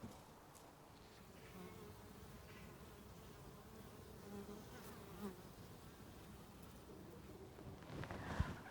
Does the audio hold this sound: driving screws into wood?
no